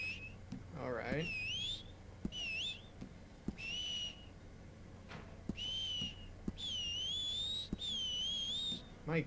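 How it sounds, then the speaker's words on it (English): Short rising two-note whistles from a character in the Western video game Red Dead Online repeat about six times at a steady pace, clear and close over a quiet game background hum, with no speech. "what kind of whistles are these?"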